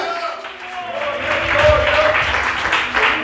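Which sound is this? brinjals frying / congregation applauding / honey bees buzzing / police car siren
congregation applauding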